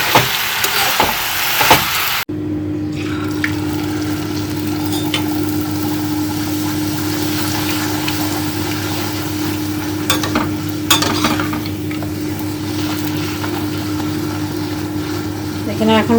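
Luchi puffed flatbread frying in hot oil, a steady close sizzle with occasional stirring clatter, preceded by a brief noisy burst at the start; a voice speaks intermittently over the frying.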